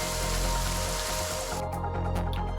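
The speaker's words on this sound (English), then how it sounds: "Raindrops begin pouring from the sky." Steady, dense rain pours continuously in a video game scene from Goddess of Victory: NIKKE, a loud uniform hiss with faint layered tones underneath.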